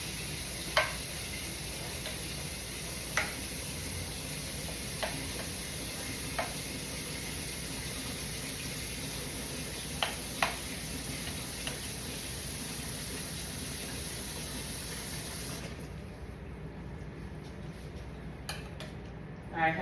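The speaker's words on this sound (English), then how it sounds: "Combining all ingredients in together." Ingredients stirred together in a sizzling pan at home, a steady frying hiss with occasional sharp taps of a utensil against the pan, the sizzle dropping away near the end.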